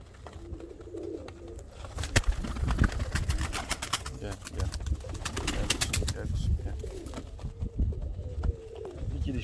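Fancy show pigeons coo softly amid a busy background, with rapid fluttering and scattered chirps; a person talks intermittently over the birds.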